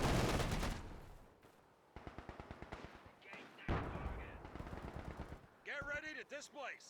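Machine gun fire in the video game Company of Heroes 2, with a dense roar of shots, then rapid rhythmic bursts of gunfire, mixed with battle noise and a voice toward the end.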